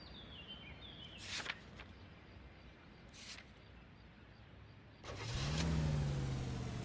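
A car in the 1940s Los Angeles detective game L.A. Noire starts up, with a couple of door or mechanism clunks before the engine catches and revs into a steady drive, close and moderately loud.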